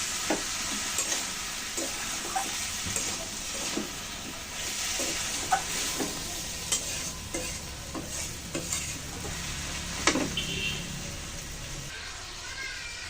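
Kalai greens are tossed and mixed with a little sugar and other ingredients in a pan, giving a continuous close hiss of frying with regular scraping stirs and occasional sharper knocks throughout.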